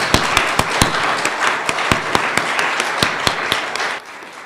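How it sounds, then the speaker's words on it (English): Applause from the audience at a District 32 primary debate, a dense steady wash of clapping lasting several seconds with sharper individual claps standing out, tapering off near the end. "So let's give them a round of applause."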